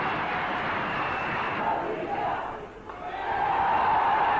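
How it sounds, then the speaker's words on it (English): A large cricket stadium crowd at a 1991 India versus Pakistan one-day match in Sharjah applauds and cheers a batsman reaching fifty, a dense continuous roar that swells, dips briefly and rises again. "An applause which he thoroughly deserves"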